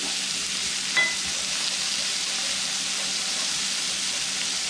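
Chicken curry fries in a pan with a steady, close hissing sizzle throughout, broken only by one brief clink near the start.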